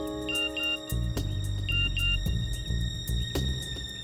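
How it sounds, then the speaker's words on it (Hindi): A phone rings in a tense scene from the Indian crime drama CID, its repeated electronic ringtone chirps cutting through dramatic background music, close and clear with no talking. "फोन बजा।"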